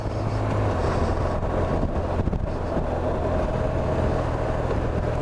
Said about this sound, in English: So now we're doing a bit of town driving.